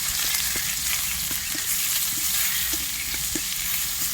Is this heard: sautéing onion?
yes